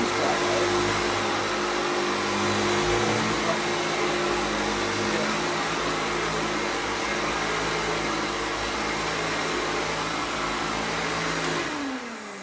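Vintage Sebo Jeyes Hygiene upright vacuum cleaner running during a suction test in a dry room, a loud, close, steady motor drone with a constant hum that winds down at the very end, with some faint speech underneath.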